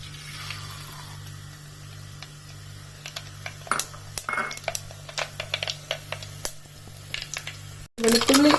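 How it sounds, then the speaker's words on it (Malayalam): Mustard seeds hit three spoons of hot oil for a pickle, giving a steady close sizzle with scattered crackles and pops, some clinks of a spoon on the pan, and a louder clatter near the end. "ഇനി കടുക് ഇടുവാണ്."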